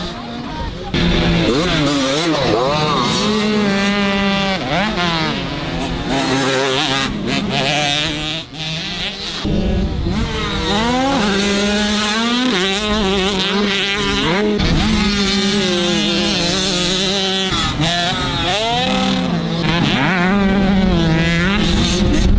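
A 65cc dirt bike revs hard and continuously on a motocross track, its high-pitched two-stroke engine note rising and falling with throttle through the whole stretch, loud and close.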